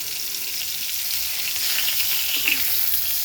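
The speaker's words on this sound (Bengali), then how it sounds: "পাঙ্গাস মাছকে সুন্দর করে ভাজতে হবে।" Pangas fish sizzles in hot oil in a wok, a continuous close hiss with a faint crackle that swells slightly toward the end, a light clink near the finish, no speech.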